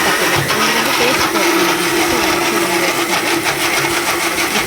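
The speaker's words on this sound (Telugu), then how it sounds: "కలిపి మొత్తం మిక్సీ పట్టాలండి." A mixer grinder runs with a loud, steady motor whine as it blends tomato, garlic and spices into a paste, chunks rattling inside the jar throughout.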